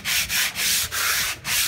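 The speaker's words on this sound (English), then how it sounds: "hand sanding it and trying to get in there" Sandpaper worked by hand across a car body panel makes steady rasping strokes, about five back-and-forth passes with short pauses between them, close and fairly loud and with no talking.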